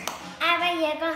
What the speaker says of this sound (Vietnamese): Rồi, vỗ tay con.